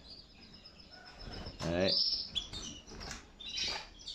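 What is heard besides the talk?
canaries chirping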